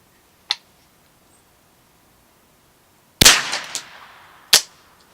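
A Remington 597 rifle loaded with a 30-round magazine fires a few sharp, separate cracks, one isolated shot followed later by a louder shot with echoing tail and another crisp report, set against near silence.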